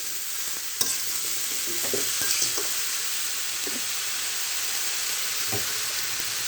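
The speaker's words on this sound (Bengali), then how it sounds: "এর আমি ভালোভাবে ভেজে নেবো হালকা আঁচে তিন মিনিট ঢেকে দেবো" Grass carp with taro stems fries in a pan with a steady, fairly quiet sizzle, broken by a few soft scrapes and taps of stirring.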